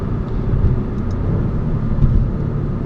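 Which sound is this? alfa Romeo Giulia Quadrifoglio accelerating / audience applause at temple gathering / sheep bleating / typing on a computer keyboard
alfa Romeo Giulia Quadrifoglio accelerating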